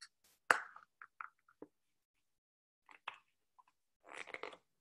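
Paper is folded and creased to make a children's pop-up card, giving a few brief, crisp crinkles and crunches with quiet gaps between them.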